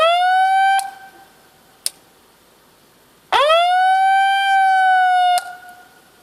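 A loud electronic worksite emergency siren wails in long steady tones of about ten seconds, cutting off abruptly and restarting after a short pause, with a brief click in the gap.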